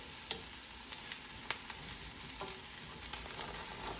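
A spoon stirs rice in a pot of dirty rice with thyme, giving a steady soft scraping and sizzle with a few faint clicks of the spoon against the pot, close and quiet throughout.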